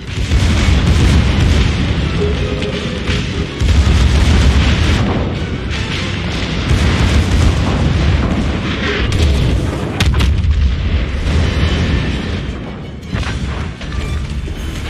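Ship guns fire repeatedly in the naval battle game World of Warships, loud heavy booms and rumbling blasts crowding together without letup, rolling one into the next.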